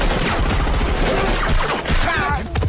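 Gunfire in an action film about a terrorist attack on a place of worship, with dense overlapping shots and crashing impacts in a loud, continuous barrage lasting the whole stretch.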